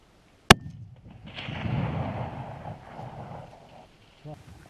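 A single sharp rifle shot rings out at a Dagestan tur during a mountain hunt in Azerbaijan, with a rolling echo and rumble trailing off, followed by a faint knock near the end.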